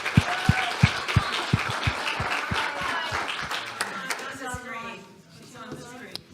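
Audience at the Emerson Institute 2024 graduation ceremony clapping for graduates, a steady, moderately loud round of applause that fades out as voices start talking.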